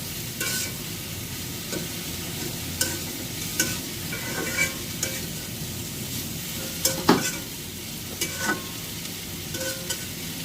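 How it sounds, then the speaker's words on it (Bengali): Bitter gourd (ustha) fries in a pan, giving a steady sizzle broken by a string of scraping, clacking strokes as a utensil stirs it, close and clear with no voices. "যখন উস্তা ভাজবেন তখন কিন্তু বেশি নাড়াচাড়া করা যাবে না।"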